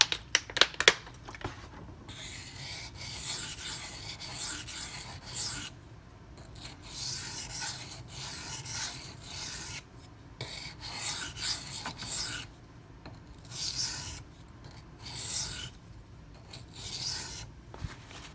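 Emerson A100 knife blade being sharpened during a regrind, a steady abrasive rasping in repeated strokes with brief pauses between passes, close and fairly quiet, no talking.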